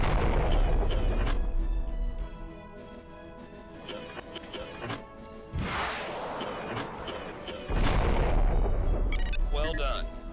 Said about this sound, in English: Now, fire your interceptors until the weapon subsystem has been destroyed.